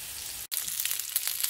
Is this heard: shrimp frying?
yes